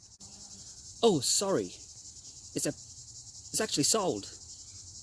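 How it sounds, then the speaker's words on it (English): A steady, high-pitched cicada drone hums without a break throughout at a pond in Westerfold Park, while a person talks intermittently over the continuous insect buzz. "that noise is of insects called cicadas."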